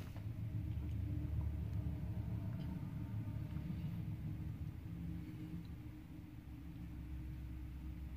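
A low continuous rumble of road traffic, vehicles passing at a distance with a steady drone and no voices.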